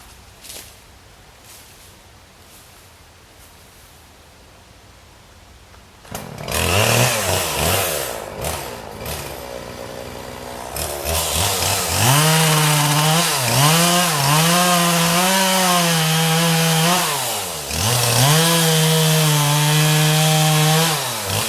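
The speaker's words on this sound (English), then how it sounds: "let's see if I can get some of this limbed out." A chainsaw limbs a felled 25-inch, 90-foot pine tree. After several seconds of quiet outdoor background it starts up loud and close, then repeatedly revs and bogs as it bites into the branches.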